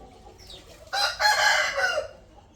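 A rooster crows once nearby, a loud drawn-out call that rises sharply and holds for about a second before trailing off, preceded by a faint squawk.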